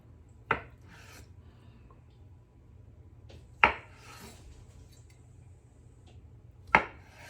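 A knife slicing thawed, previously frozen tofu in half, three sharp separate cuts spaced a few seconds apart, close and fairly quiet against a soft steady background.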